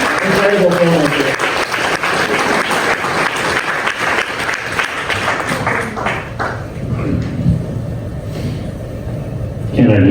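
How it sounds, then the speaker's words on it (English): Audience applause fills a documentary's sold-out debut screening, loud and sustained for about six seconds before thinning, with voices and crowd murmur running underneath. "So big round of applause for Caleb Blake."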